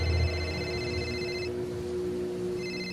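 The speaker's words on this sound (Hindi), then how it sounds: "उसी समय समीर का फोन बज पड़ा" An electronic phone ringtone trills in two bursts with a short pause between, over a low steady hum.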